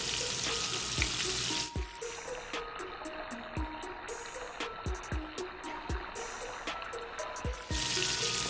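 A steady hiss of whole perch frying in hot oil, with occasional clicks and pops, and utensils knocking against the pan now and then.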